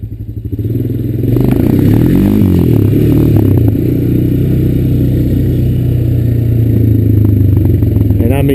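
A Honda Recon ES ATV's engine revs hard during a wheelie, climbing in pitch and holding a loud, close, clattering roar, with occasional thumps from the machine.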